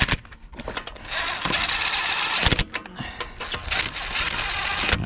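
An impact wrench tightens the wheel lug nuts on a 2004 Mercury Sable during a brake pad replacement, giving loud, close rattling bursts that run almost continuously with brief pauses.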